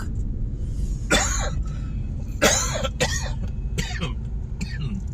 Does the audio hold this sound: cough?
yes